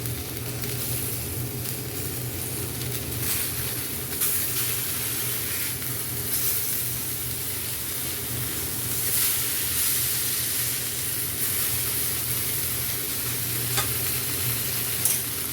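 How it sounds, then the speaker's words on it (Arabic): Fish frying in a pan of hot oil as the pieces are flipped, giving a dense, steady sizzle and crackle throughout with a few sharper pops and scrapes from the turning. "وهنا هبدأ اقلب السمك"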